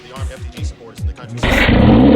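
A car engine revving loudly, playing back from a video clip, with sharp repeated throttle bursts that build into a sustained roaring rev near the end.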